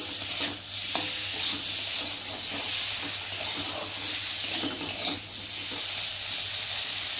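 Ginger paste, cumin paste and a small tomato are stir-fried in a pan, making a steady soft sizzle with repeated scraping stirs of a spatula, close by and without talking.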